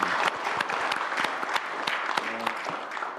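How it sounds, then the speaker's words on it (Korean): Audience applause: dense, steady clapping from a crowd, moderately loud and sustained, with faint voices mixed underneath. "박수 한번 쳐줄까요?"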